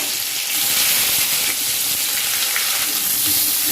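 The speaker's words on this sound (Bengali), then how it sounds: "পেঁয়াজগুলো একটু লাল লাল করে ভালো করে ভেজে নেব।" A pan sizzles and crackles steadily and loudly as chopped onions fry in hot oil, with no voices.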